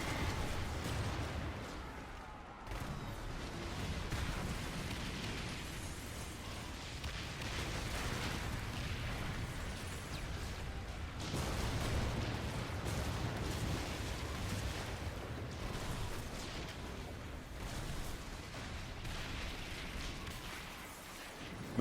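Dense, continuous explosions and cannon booms in the naval combat game Skull and Bones, a rolling wall of blasts and rumble with no clear breaks, fairly faint overall.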